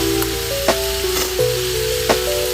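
Pieces of neckbone and oxtail being flipped in a hot pan for stew give off a steady, close sizzle, with a few brief clinks and scrapes from turning the meat.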